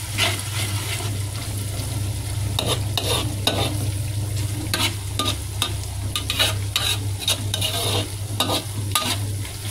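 Dried scallops crackle and sizzle steadily in plenty of oil while a utensil scrapes and stirs the pan in repeated bursts, close and continuous under a low background hum.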